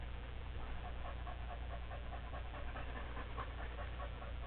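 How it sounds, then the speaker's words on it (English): A dog pants steadily and rapidly up close, quick rhythmic breaths over a constant low hum, with no talking. "You're not panting because you're hot."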